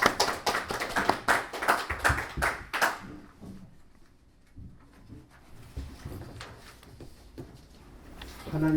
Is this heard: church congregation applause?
yes